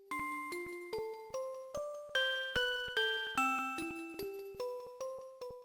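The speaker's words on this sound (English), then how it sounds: "it plays the Pokemon Lullaby, which sounds like this" A gentle chiptune lullaby from the Pokegear radio in Pokemon HeartGold/SoulSilver, with soft bell-like notes arriving in a steady, slow rhythm, each note decaying evenly, played alone with no talking.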